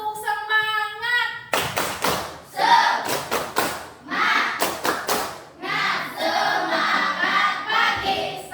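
Schoolchildren perform the tepuk semangat clapping chant, voices calling out between sharp rhythmic bursts of group clapping in grouped beats, fairly close and lively.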